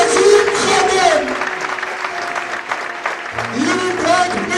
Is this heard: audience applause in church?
yes